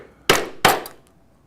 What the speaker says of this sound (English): And now I will also take the 1/8 inch punch and punch them as marked.